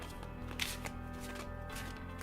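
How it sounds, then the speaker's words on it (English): Stiff tarot cards shuffled hand over hand, a steady soft rustling and slapping at a low level, close and continuous with no voices. "cards are just small enough to effectively hand over hand shuffle"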